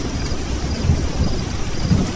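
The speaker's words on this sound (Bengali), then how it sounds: "ঘন ঘন বিদ্যুৎ চমকাচ্ছে, আর গুড় গুড় করে মেঘ ডাকছে।" A thunderstorm with heavy rain: a steady wash of downpour under low, rolling rumbles of thunder that swell twice, with no voices.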